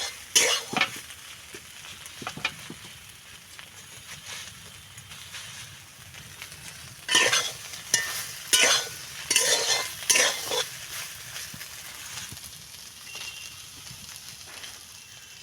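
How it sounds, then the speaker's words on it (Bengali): Soybean chunks fry in oil in a pan, a low steady sizzle punctuated by clustered scraping bursts of stirring, loudest in the middle stretch, heard close with no talk. "সোয়াবিনটা ভাজা আমার হয়ে গিয়েছে"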